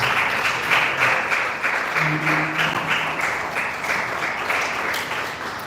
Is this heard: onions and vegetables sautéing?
no